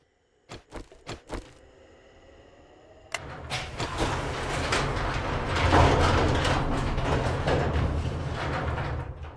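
Motorcycle engine in the video game 7 Days to Die, a few sharp clicks and knocks followed by the engine catching and settling into a steady, close rumbling idle that swells slightly, with no talk over it.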